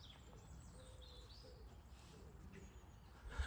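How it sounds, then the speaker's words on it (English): Faint birdsong drifts in from a distance, scattered chirps and short whistled phrases over a low outdoor rumble, by a canal marina in late winter. "And then listen to the birds."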